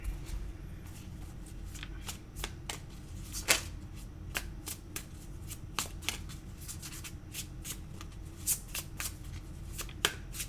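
Tarot cards are shuffled by hand in a quiet room, producing a run of sharp riffling snaps and soft flicks at an irregular rhythm over a low, steady background.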